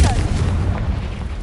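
Bombarda and Confringo spell blasts in a video game: a loud, deep boom at the start that trails off into rumbling low noise over a second or so.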